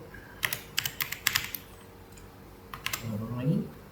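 Quick bursts of computer keyboard typing entering numeric input for a simple Caesar cipher program, clustered taps early, then a few more keystrokes under a nearby voice.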